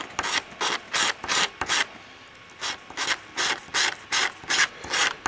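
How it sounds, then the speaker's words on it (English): A casino credit card scratches lottery tickets in quick rhythmic bursts of rasping, about ten strokes with a short pause between groups, close and fairly loud. "I am going to scratch them with something a little cleaner here, my casino credit card."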